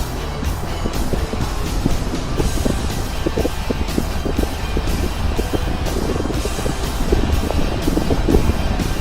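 Motorcycle engine running outdoors as a storm arrives and rain begins, a low steady rumble buried under gusting wind buffeting the microphone, with no speech.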